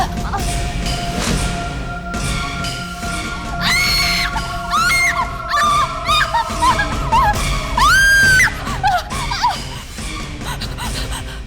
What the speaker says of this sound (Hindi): चिल्ला क्यों रही हो?